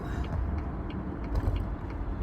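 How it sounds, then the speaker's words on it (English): Steady road traffic rumbles close by, a dense low roar of passing cars and heavier vehicles with brief swells and faint mechanical hisses, continuous throughout without speech. "This is serious traffic going on right here."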